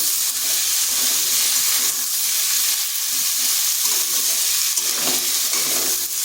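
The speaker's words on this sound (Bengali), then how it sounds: "ওই হাই আঁচের মধ্যেও কুমড়াগুলোকেও ভেজে নেব" Pumpkin pieces fry over high heat in a pan, a steady close sizzle filling the whole stretch with occasional stir-like flares and no talking.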